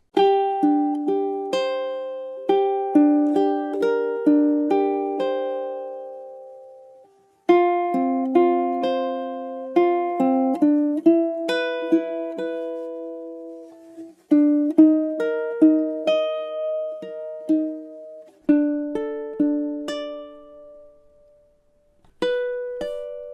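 A ukulele plays the fingerpicked intro of a song, bright individual notes ringing and decaying in a steady rhythm with short pauses between phrases, no voices.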